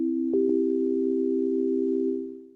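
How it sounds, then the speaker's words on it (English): A pure sine wave oscillator on an Akai MPC Live wavetable synth holds one steady low tone for about two seconds, with two brief clicks near the start, then fades out. "It's a sine wave."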